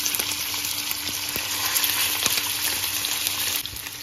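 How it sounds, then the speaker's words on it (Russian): Pork ribs frying in hot vegetable oil in a pan, a steady close sizzle and crackle with occasional sharper pops, no voices. "начинаем обжарить наши ребрышки с двух сторон"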